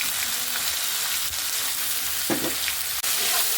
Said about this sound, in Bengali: এই যে মশলাটা ভাজা হয়ে গেছে, এই পেঁয়াজ আমি দিয়ে দিচ্ছি,